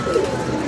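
A pigeon coos once, a soft, low, brief call close by against a faint background murmur.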